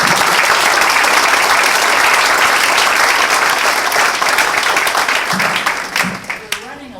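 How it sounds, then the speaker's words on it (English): An audience at a foundation event gives loud sustained applause for a panel moderator, dense clapping from many hands that thins and fades out toward the end. "So let's give a nice big round of applause to Rita Chioli."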